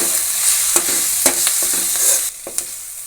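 Turmeric is stirred into a hot pan while cooking sambar, a steady loud sizzle underneath several sharp spoon scrapes and taps, close up with no voices.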